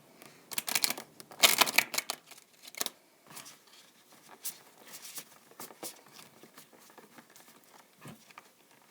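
Tarot cards are shuffled by hand in bursts of quick riffling and flicking. The loudest flurry comes early, followed by softer, scattered taps and slides of the cards.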